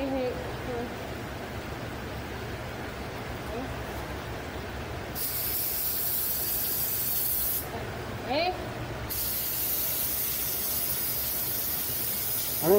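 A paint sprayer hisses in two bursts while spraying paint onto aluminum, a sharp airy spray lasting a couple of seconds each, over quiet background murmur and soft talk.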